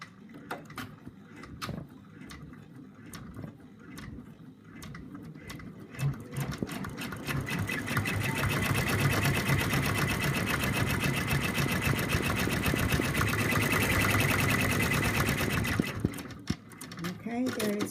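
Embroidery machine stitching the black eye of an in-the-hoop Christmas bird, a rapid mechanical whir that builds to a steady, loud, close run for several seconds, with a person talking over it at times.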